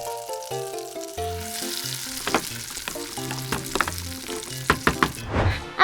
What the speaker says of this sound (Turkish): Makarnayı şimdi sosla karıştırabiliriz. Güzelce karıştıralım.